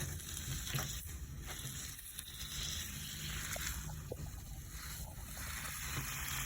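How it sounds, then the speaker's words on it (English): Steak and potatoes sizzle and fry in a pan inside a truck, a steady hissing crackle at a moderate level with occasional pops and no talking. "Good, you can hear that sizzling now."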